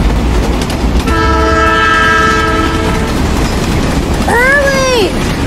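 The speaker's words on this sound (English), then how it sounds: "The train's leaving!" A train pulling away sounds a long, loud steady horn blast, then a shorter bending horn call, over constant rumbling rail noise in an animated Cars fan film.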